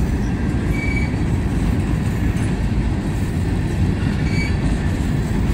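Freight train rolling past on tracks, slowing below its usual 40 mph, steady close rumble of railcars with faint wheel squeals over a continuous low roar, no voices.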